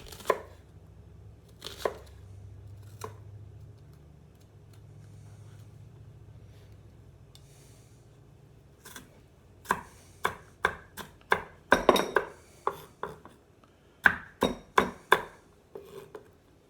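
A knife chops onion on a board for avocado toast, a few isolated strikes early, then a quick, irregular run of crisp close chops after a low, quiet stretch.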